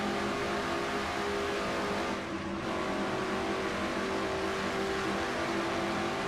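Stock cars racing at the Brickyard in a racing video game, including a Pontiac: a loud, continuous engine drone with steady high-pitched whine, briefly dipping mid-way before the roar holds on.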